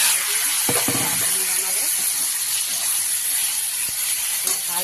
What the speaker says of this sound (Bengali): তেলের মধ্যে আমি সর্ষে আর শুকনো লঙ্কা ফোড়ন দিয়ে দিয়েছি।